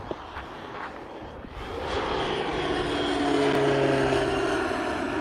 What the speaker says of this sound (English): A lot of these nice, fast private planes are flying today